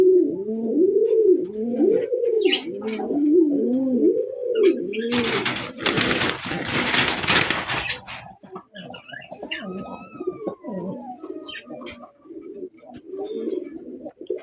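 A pair of big Maxi racer pigeons at a pigeon sale, cooing in close, repeated rolling coos, with a loud burst of rustling partway through and more cooing afterward.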